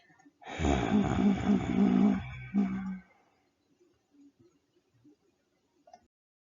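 A human voice imitates a wolf's loud snoring with one long, rough, rumbling snore lasting a few seconds, followed by near silence with faint small noises.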